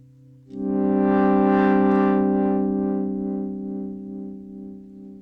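A sustained Vongon Replay synthesizer pad chord swells in at once, a layer of hissy noise shimmering over the tones, then slowly eases off; no voices.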